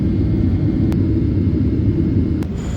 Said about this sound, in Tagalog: Before 7 PM nga ay lumipad na ngayong eroplano.